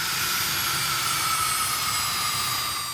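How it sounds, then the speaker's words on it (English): A Bombardier Learjet taxiing away from a delivery center in Wichita, a steady high-pitched jet whine over a broad rushing roar, constant and fairly loud with no voices. "with the plane taxiing away from the Bombardier Learjet Delivery Center"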